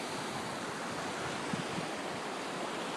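Steady broadband rush of the Snake River flowing beneath a bridge, a constant wash of water noise heard from above with no speech.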